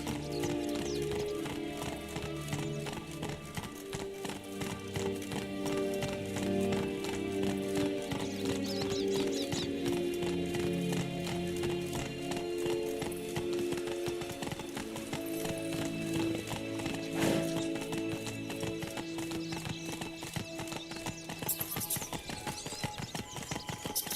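Horse hooves clip-clop in a steady galloping rhythm throughout a Witcher video game scene, close and continuous, with occasional whinnies and faint game sounds behind.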